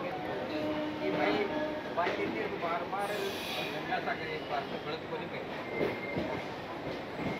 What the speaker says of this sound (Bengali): 22201 শিয়ালদা পুরী দুরন্ত এক্সপ্রেস আমাদের শিয়ালদা স্টেশনের 9 নম্বর প্ল্যাটফর্ম থেকে ছেড়ে দিয়েছে